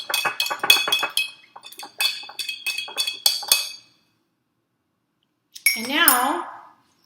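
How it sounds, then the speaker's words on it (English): A spoon stirs a mixture in a glass, giving a quick run of bright, rhythmic clinks for a few seconds, then a pause followed by a short ringing, wavering tone. "You take a spoon and you give it a stir."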